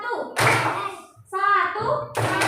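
A classroom of children claps once in unison on a teacher's cue, a short sharp group smack repeated as separate bursts, with the teacher's voice and the children's voices between them.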